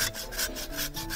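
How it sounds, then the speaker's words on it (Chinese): A two-edged hand saw cuts through a wooden branch outdoors in rapid, rhythmic back-and-forth strokes, each rasping pass close and distinct, with no voices over it. "真的不要随便拿锯子来锯"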